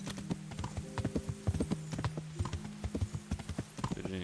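A horse galloping in Kingdom Come: Deliverance, rapid hoofbeats clopping in a steady, driving rhythm close by, over a low sustained tonal drone from the game's soundscape.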